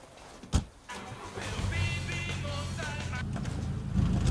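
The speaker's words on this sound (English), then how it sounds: "I'm going to have to move the car." A car engine starting in the video game Ghost Recon Wildlands: a sharp crank, then a steady idling rumble that settles in under outdoor game ambience.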